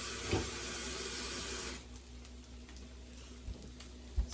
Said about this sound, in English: So I'm going to put a little bit of water in here.